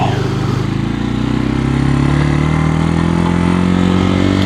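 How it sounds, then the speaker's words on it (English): A Suzuki TU250x motorcycle engine pulls loudly and close up as the rider shifts up a gear and opens the throttle, its droning tone climbing steadily in pitch with no voices. "To shift, we're gonna clutch in. We're gonna hit up and then slowly let out, just like that, while increasing throttle."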